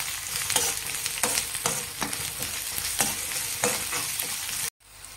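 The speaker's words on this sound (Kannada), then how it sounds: "ಈಗ ಇದನ್ನು ಕೂಡ ಮಿಕ್ಸ್ ಮಾಡ್ಕೊಳ್ಳೋಣ" Bitter gourd fry with turmeric and chili powder being stirred in a pan, a steady close sizzle broken by repeated scraping strokes of a spatula, about one every half second, ending abruptly.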